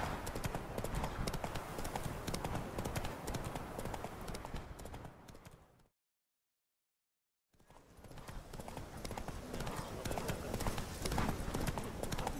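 Horse hooves trot in a steady clip-clop rhythm in a fantasy audio drama, close and clear, then break off into a short silence before resuming, the horse urged on along a forest road.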